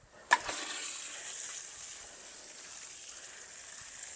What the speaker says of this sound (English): All right, let's water it in.